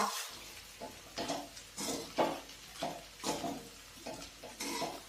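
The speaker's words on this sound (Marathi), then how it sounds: "बघा आपण आता मीठ छान मिक्स केलेलं आहे" Sabudana khichdi is stirred in a pan after salt is added: rhythmic scraping strokes, roughly one every half second, sounding close and moderately loud against a faint sizzling background.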